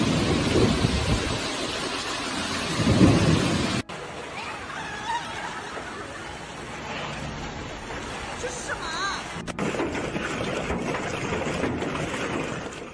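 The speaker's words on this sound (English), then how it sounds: "Streets quickly became flooded as torrential rain combined with the hail," Torrential rain pours down with hail during a severe thunderstorm, a dense, steady roar of heavy downpour with rumbling thunder, cut between segments and continuing loudly throughout.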